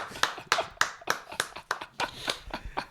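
A small group claps briefly, about ten quick, uneven claps close by, with no talking over them.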